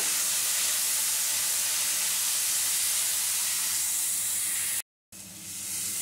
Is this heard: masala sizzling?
yes